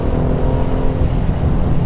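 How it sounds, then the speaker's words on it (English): A turbocharged BMW M2 with performance exhaust roars loud and close, a continuous deep, burbly engine drone under load with no pauses. "It sounds great, it sounds burbly, it sounds meaty, it sounds like a big engine"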